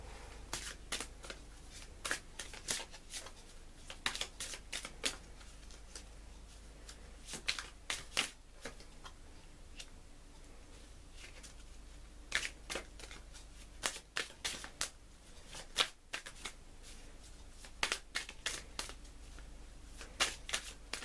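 A deck of Everyday Witch Oracle cards is shuffled by hand, giving repeated sharp riffling bursts and soft slides at an irregular rhythm, close and quiet in a still room.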